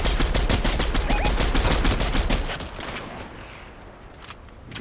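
Rapid automatic gunfire in Fortnite crackles loudly and close in a dense burst of shots for about two and a half seconds, then stops, leaving a quieter trailing tail.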